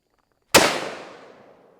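A single loud .500 Magnum revolver shot fired at 2-liter bottles outdoors, a sharp sudden crack followed by a long decaying echo tail, with no talking.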